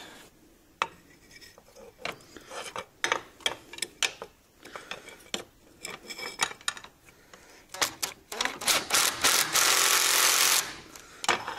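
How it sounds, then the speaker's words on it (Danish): An air impact wrench works on a Yamaha MT07 chain kit: scattered sharp metallic clicks and taps, then a loud sustained hammering rattle of about three seconds near the end. "Og det bruger jeg luftnøglen til."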